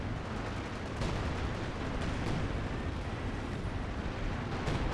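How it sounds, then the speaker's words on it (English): Artillery shells strike in Company of Heroes 2, a World War II strategy game, as a dense, continuous rumble of blasts and gunfire with sharper impacts near the start and end, loud and steady throughout. "Hopefully he dodges the incoming artillery, which is absolutely hitting him."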